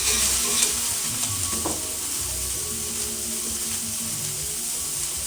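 Onions and peppers sizzle steadily in hot oil for Haitian paella, a constant close frying hiss with a few scrapes of stirring and no talk.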